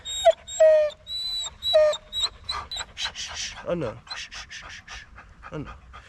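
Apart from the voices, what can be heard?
dog panting and whimpering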